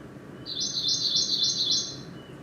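Greenish warbler song of the Chinese and Himalayan form, a short, simple, high trilled phrase of rapid repeated notes, clear and alone against faint background hiss.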